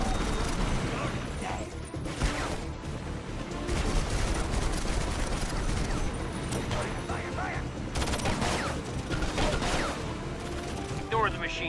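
Video game gunfire rattles in a dense, continuous fusillade of rapid shots and mechanical clatter, loud and close, with shouted soldier voices over the combat.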